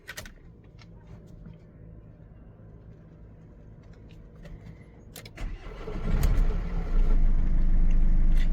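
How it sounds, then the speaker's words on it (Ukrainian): A 2013 Renault Master 2.3 van with a 125 hp engine cranks and fires up, then settles into a steady, rumbling idle heard close by. "Завожу машину."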